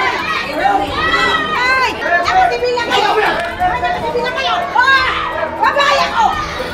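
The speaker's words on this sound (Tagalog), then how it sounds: "Maririnig sa video ang sigawan ng dalawang grupo." Two groups of security guards shout at each other during a protest, their raised, overlapping voices forming a loud, continuous clamor up close.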